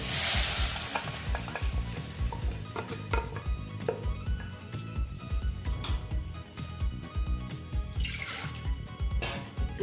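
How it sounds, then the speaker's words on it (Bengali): Boiled chana dal for a sweet-shop style potato dal goes into a hot pan with a burst of sizzling, then a spoon scrapes and stirs in repeated rhythmic strokes while the frying hiss continues underneath. "ওই যে ডালটা যে সেদ্ধ করে রেখেছিলাম ডালটা আমি দিয়ে দেবো"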